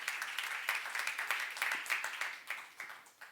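A church congregation claps during a sermon, a dense crowd of applause with a steady rhythmic pulse that holds throughout and fades slightly toward the end.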